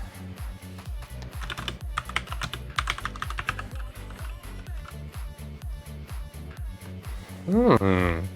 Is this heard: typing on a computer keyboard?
yes